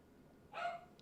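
A pet pup gives a single short, faint bark or yip, somewhat distant and alone, with a brief clipped sound just after.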